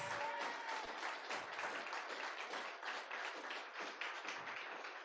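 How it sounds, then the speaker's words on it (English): A crowd at an anniversary celebration claps steadily, a dense wash of applause heard from a distance and holding evenly throughout with no talk. "Give her a big round of applause."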